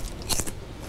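A single crisp, crunchy bite into handmade fried seaweed chips (gim-bugak), loud and close, with a brief crackle and no voices.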